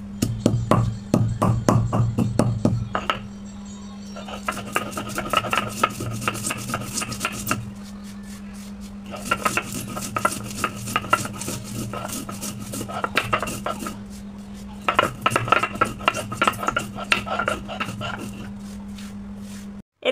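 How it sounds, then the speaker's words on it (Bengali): Roasted garam masala whole spices being ground in a home kitchen, with repeated bursts of rough grinding and rattling separated by short pauses, close and fairly loud over a steady low hum. "তো আগে গরম মশলাটা টেলে নিয়ে এখন গুঁড়ো করে নেব"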